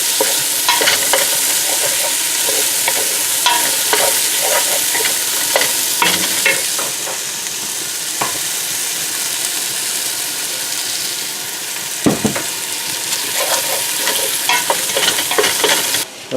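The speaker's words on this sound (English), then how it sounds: "So we got some garlic browning in there and some olive oil." Garlic and onions fry in olive oil over low heat, a steady close sizzle with frequent scraping and stirring clicks from a utensil in the pan, no talking.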